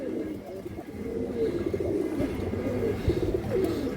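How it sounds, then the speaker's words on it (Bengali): A female pigeon with red ring eyes coos close by in low, throaty, rolling bursts that continue throughout, with faint background noise. "এটা মাদি কবুতর"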